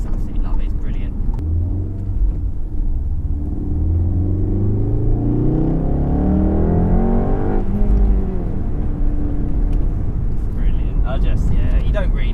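A VW Golf R MK7 accelerates at full throttle in third gear, its engine note climbing steadily in pitch as the revs rise, then cutting sharply at a shift, loud and close from inside the car.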